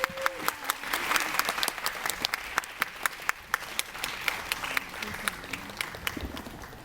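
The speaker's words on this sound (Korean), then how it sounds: "박수 부탁드립니다." An audience at a film screening Q&A for the movie Gosanja applauds the director and the novelist as they come out, sharp individual claps over a steady crowd patter lasting several seconds, with a voice briefly heard at the start.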